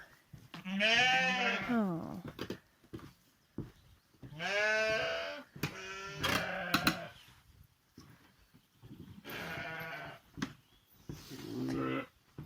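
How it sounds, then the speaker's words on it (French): Ewes bleating in a barn at lambing time, several loud close calls in bursts with short pauses between them, wavering nasal cries from more than one animal, no speech. "Alors ça c'est mon deuxième lot d'agnelage. Il y a 18 brebis."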